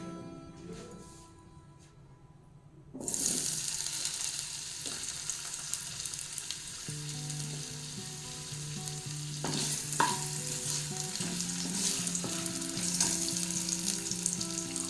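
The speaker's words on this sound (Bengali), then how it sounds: "সর্ষের তেল গরম হয়ে গেলে কিন্তু আমি কেটে রাখা আলুগুলোকে আমি এখানে ভেজে নেব।" Cut potatoes frying in hot mustard oil for chana masala, a loud steady sizzle that erupts suddenly as they hit the pan and continues with occasional stirring clatter.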